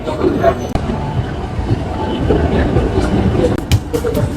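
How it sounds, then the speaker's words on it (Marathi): A metro train rumbles along with a steady low roar and occasional clicks from the cars, while people chatter nearby over the ride noise. "आपण बसलोय मेट्रोमध्ये"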